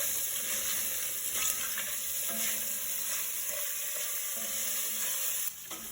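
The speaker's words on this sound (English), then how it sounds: "we are going to let that cook until the jalapenos are soft" Jalapenos sizzle steadily in a hot pan for a Mexican-inspired chicken and rice dish, a close, continuous frying hiss with occasional soft stirring and light pops.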